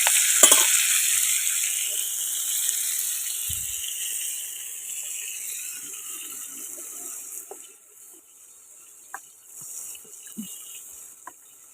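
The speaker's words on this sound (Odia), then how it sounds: "ଏବେ ଆମର କୋକୋଲି ମାଛ ଭଜା ଚାଲିଛି ପଖାଳ ଖାଇବା ପାଇଁକା" Kokoli fish frying in a pan of hot oil, a steady hissing sizzle that starts loud and gradually settles, with a few faint clinks and utensil taps near the end.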